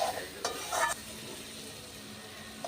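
Spices frying in oil in a pan, sizzling steadily up close while a spoon scrapes and stirs in short bursts near the start, then a quieter continuous fry.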